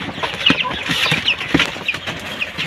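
Close, busy peeping and soft clucking from young Aseel chicks kept in a cardboard-lined brooder on a Filipino farm, many short high chirps overlapping in a quick irregular chatter.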